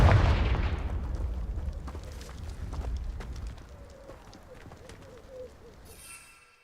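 A Confringo blasting spell explodes in the Hogwarts Legacy video game: a loud, booming blast that rumbles and slowly fades, with faint crackles trailing off.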